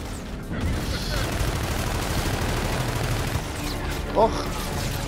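Dense, continuous gunfire in Call of Duty: Infinite Warfare, a steady rattle of shots with a louder pop near the end, under faint background talk.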